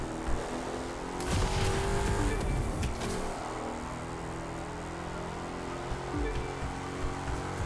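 A racing car in The Crew 2 brakes and drives on with a steady engine drone, a few short squeals and thumps near the start, then a continuous rumble at moderate volume with no talk.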